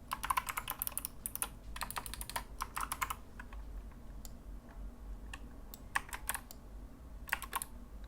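Computer keyboard typing during PC setup for app automation, with quick bursts of clicky keystrokes separated by short pauses, close and fairly quiet with no talking.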